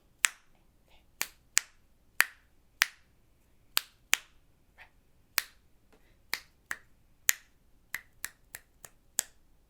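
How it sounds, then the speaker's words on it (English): Crisp single finger snaps ring out one at a time in an uneven practice rhythm for flute lessons, close and dry against a quiet room, about twenty sharp clicks with short gaps. "Why don't we snap or clap this?"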